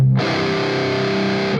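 Overdriven electric guitar through the overdrive channel of a Friedman BE Mini amp head, one sustained distorted chord ringing loud and steady for over a second before cutting off, with no voices.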